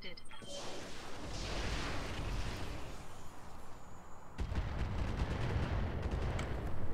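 Weapon fire in the game Roguepoint comes as dense, rumbling bursts of gunfire and blasts, a heavy volley that pauses briefly then resumes louder near the end.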